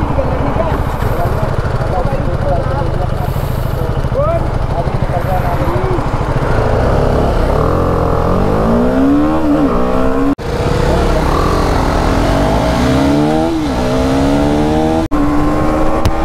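BMW G310 and KTM Duke 390 motorcycles in a 2024 drag race on a road, loud engines revving with repeated rising pitch sweeps as they accelerate and shift over heavy wind roar, with someone talking over them.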